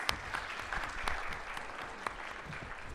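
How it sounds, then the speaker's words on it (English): A debate audience claps for the debaters, a steady, dense round of applause from a crowd in a hall, even in loudness and continuous throughout, with no speech over it. "Let's give the debaters a round of applause."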